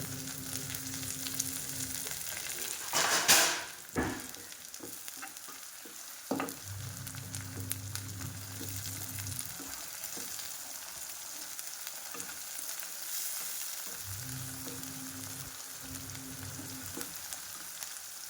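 Chopped onion and tomato sizzle steadily in a hot pan for lasuni methi, with a sharp clatter of stirring near the start and another brief scrape midway, then continuous even frying.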